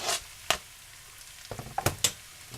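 Diced steak hitting a hot skillet on the stove gives a quiet, steady sizzle broken by a few sharp crackles and pops. No one speaks.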